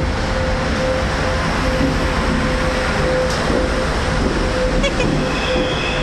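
A freight locomotive passes at Mantova railway station, a loud steady rumble and roar with a sustained tonal hum and faint metallic squeals. There is no talking.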